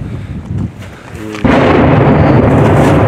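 Shelling explosions in the besieged town of Debaltseve, a deep rumbling blast that erupts suddenly and loudly partway through, following quieter muffled booms and carrying on as sustained roar.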